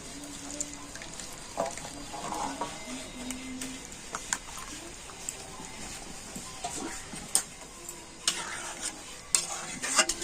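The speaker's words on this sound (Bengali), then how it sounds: "আবারও আমি এই টমেটো পেস্টটা কড়াতে দিয়ে দেবো" Strained tomato paste cooks in a wok, giving a soft, low sizzle beneath repeated scraping and clinking stirs of a spoon against the metal, irregular and close, with no voices.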